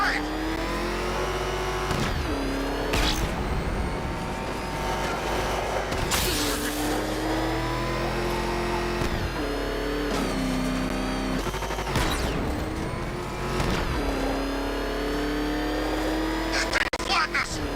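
Car accelerating hard while driving away in a Most Wanted video game mission, a steady loud engine drone rising through gear changes with sharp impact bursts, under frequent shouted voices.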